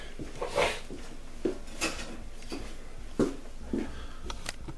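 A whisk scrapes and taps through flour, sugar and cocoa in a large mixing bowl for a chocolate cake, giving a scattered run of light clinks and soft rubbing strokes at close range, fairly quiet, with no talk.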